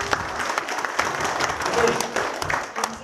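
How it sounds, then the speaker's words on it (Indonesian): An audience applauds Pak Subaidi at a MONSPACE gathering, giving a dense, steady round of clapping that lasts about three seconds with no pause. "beri aplaus kepada Pak Subaidi"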